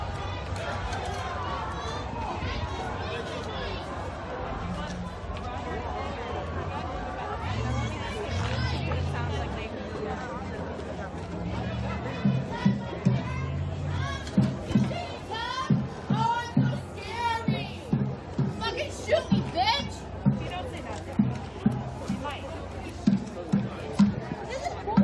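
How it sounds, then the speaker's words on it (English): A protest crowd on the move at night in the USA: murmuring chatter and scattered voices, then louder rhythmic footfalls and shouts as people hurry past nearby. "Got a part of the crowd that is on the move"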